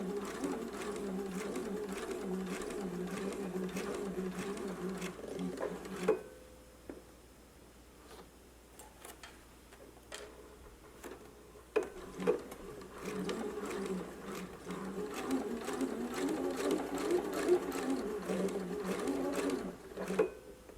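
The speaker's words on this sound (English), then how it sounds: "we're going to stitch to the other side of the dart, not back stitching, but just leaving long thread tails" A sewing machine runs in two long stretches as it stitches a double-pointed dart, leaving long thread tails. A steady, close whirring fills the first six seconds, then a quiet pause with soft handling, then a longer run to the end.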